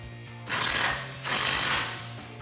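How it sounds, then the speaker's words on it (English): Ratcheting socket wrench with a 16 mm socket tightening a bolt, lock washer and nut on a Toyota Tacoma bull bar bracket: two steady bursts of rapid clicking ratchet strokes close by, with no voices. "Grab your 16 millimeter socket and wrench and tighten this down"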